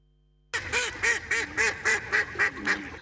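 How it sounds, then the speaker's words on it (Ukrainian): Ducks on a park lake in winter quack in a steady run of about nine loud, evenly spaced calls, close by and clear. "В парку глоби качки живуть на декількох ділянках озера."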